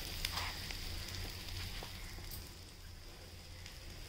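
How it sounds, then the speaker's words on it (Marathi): Oil poured around an egg cutlet made with bread sizzles and crackles softly in a pan, a faint steady frying hiss that holds evenly throughout. "आता आपण जो तेल ठेवला होता तो आपण साईडून टाकून घेऊयात।"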